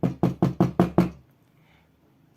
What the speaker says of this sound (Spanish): se escuchó un toque a la puerta en la casa de la familia González